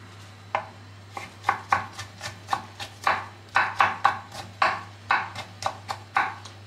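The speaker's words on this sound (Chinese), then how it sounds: "然后切成粗丝" A knife cuts pickled cucumbers from Costco on a cutting board for a pollock roe salad, making a quick, fairly even series of crisp chops close by, about a dozen strokes with a faint steady hum underneath and no talking.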